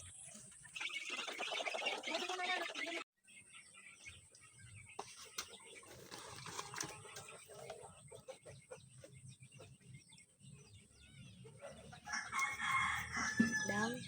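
Backyard chickens feeding on commercial feed cluck and peck while a rooster crows several times, fairly faint with scattered tapping and rustling between calls, and a louder burst of crowing near the end.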